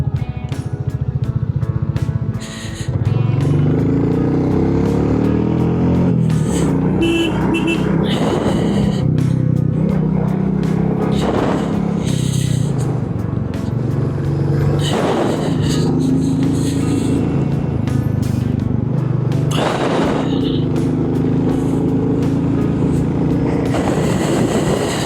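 A vehicle passes on the Valparai ghat road during a bike ride, a steady loud engine-and-road drone with repeated swells as traffic goes by, no talk.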